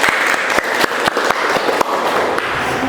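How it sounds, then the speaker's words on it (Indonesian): Classroom applause for a student group during a microteaching lesson: a steady burst of many hands clapping at close range, dense and even for about three seconds with no talk over it. "Kita beri aplaus sekali lagi untuk kelompok 2."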